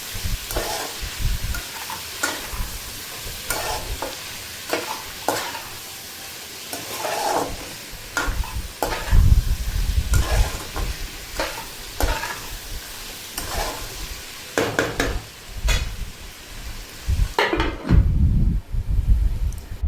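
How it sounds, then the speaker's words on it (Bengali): Spices with Kashmiri chili powder fry in a pan for Bengali mutton kosha, a continuous sizzle broken by repeated scraping stirs and clanks of a spatula, louder bursts coming in irregular waves. "এগুলো দিয়ে একটু খানিকক্ষণ ভাজা ভাজা করে নেব"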